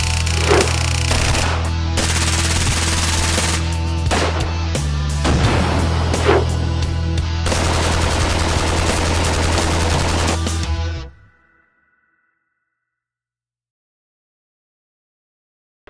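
Repeated blasts from a combat shotgun during a drug-house shootout drill, loud and close, several sharp reports over continuous noise before cutting to silence.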